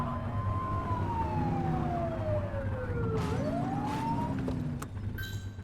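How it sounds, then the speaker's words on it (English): Police siren switched on in the video game The Precinct, a loud wailing tone sweeping down then rising again over steady engine rumble, with a brief chirp near the end. "Get on their tail and flip the siren."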